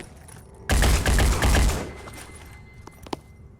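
A rapid burst of gunfire in the video game Phoenix Point, a loud rattling string of shots lasting about a second, followed by a few scattered quieter shots and clicks.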